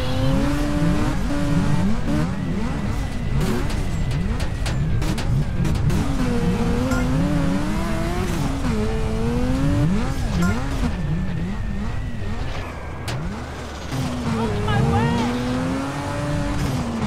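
Cars race in the video game GTA San Andreas, with steady loud engine roar and pitch rising and falling through gear changes and revving, plus occasional tire squeals, continuous throughout.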